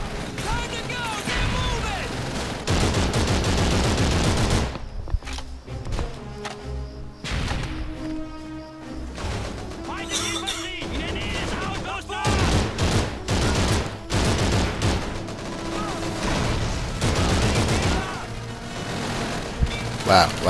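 Rapid gunfire in Call of Duty 3 crackles in dense bursts and volleys with sharp impacts throughout, mixed with someone talking over the shooting.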